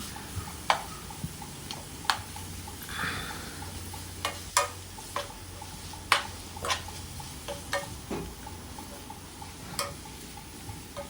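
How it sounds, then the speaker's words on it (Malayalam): Moringa (drumstick) leaves stir-fried in a pan for thoran, a spoon scraping and tapping the metal in irregular clicks every second or so over a low, soft background hiss. "മുരിങ്ങയില നല്ലോണം വേവണം അപ്പം നല്ലോണം ഇളക്കി കൊടുക്കുക"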